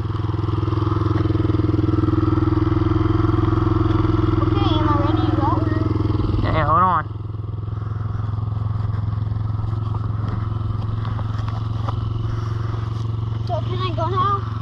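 A 2021 Kymco Mongoose 90 mini ATV four-wheeler idles with a steady, loud low engine drone that holds constant throughout, with a brief clatter midway and light background voices.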